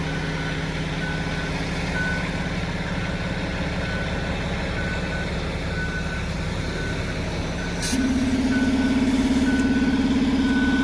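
A concrete truck idles steadily at a pour in snowy, freezing weather while its reversing alarm beeps repeatedly; the engine note shifts and grows louder near the end.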